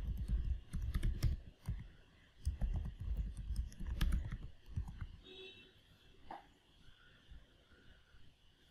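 Close, quick typing on a computer keyboard, bursts of clicky keystrokes that trail off into sparse taps over quiet room noise.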